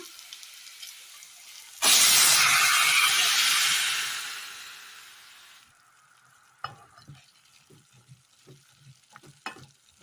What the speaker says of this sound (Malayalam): കടല ഒഴിച്ചു കൊടുക്കാം.